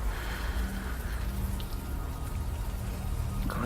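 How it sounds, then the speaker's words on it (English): Steady rainfall patters continuously in the video game Unavowed, a soft even hiss of drops with faint background tones beneath. "At least the rain is washing away most of the smell."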